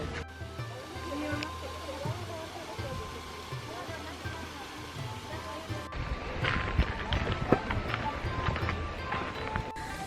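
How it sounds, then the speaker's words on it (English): Bonsai trees at a garden watering station are sprayed with water, a steady hiss and splash that grows louder and rougher partway through. A person talks faintly in the background. "this looks like to be the bonsai watering station, and they're watering all of these bonsais"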